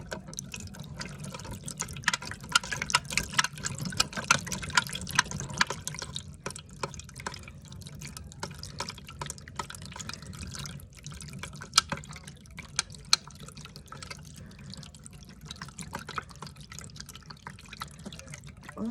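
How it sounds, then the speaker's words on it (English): Water is poured into a container with a small amount of liquid already in it, giving a soft, continuous wet trickle with drips, close and fairly quiet, steady for the whole stretch with no talk. "I poured a little bit more water in here."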